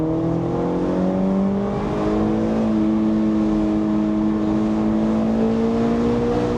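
A Toyota GR Supra with a manual gearbox accelerates hard in second gear past 60 mph, its engine note climbing steadily in pitch, loud and sustained from inside, with no talking.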